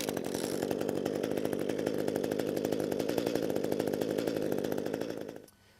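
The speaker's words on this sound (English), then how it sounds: "our gas hedge trimmer should fire on the first or second pull" An ECHO gas hedge trimmer runs with the choke set to run, its small two-stroke engine buzzing loud and close at a steady pace for several seconds before it cuts off abruptly.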